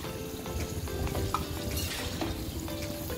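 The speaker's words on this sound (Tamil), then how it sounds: "தயிர் போட்டு நல்லா மிக்ஸ் பண்ணி விடுங்க." Yogurt is stirred into chicken curry in a hot pan, giving a steady low sizzle under soft scraping and stirring strokes, close and moderately quiet, with no talking.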